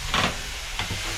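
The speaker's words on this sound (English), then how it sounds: "Can't fake that steam, folks." Water hissing and steaming on hot, hand-harvested stove rocks in a mobile sauna trailer, a broad steady hiss with two brief louder bursts as water hits the stones, close by with no talk.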